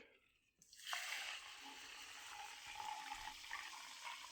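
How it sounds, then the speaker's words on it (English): SodaStream-made Pepsi Max pours into a glass, a steady fizzing, splashing rush starting abruptly after a brief quiet moment and continuing loudly with no voices. "Now that poured, it sounded and looked exactly like what would happen if I poured normal Pepsi Max."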